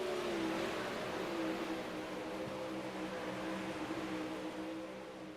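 360 sprint race cars in a dirt-track heat race, a distant droning chorus of engines with shifting whining pitch, steady and fairly faint, with no voices over it.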